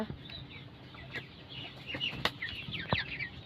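Broiler chickens nearing 2 kg cluck and chirp softly at a farm during feeding and watering, in a steady scatter of short calls with a few sharp clicks and rustles.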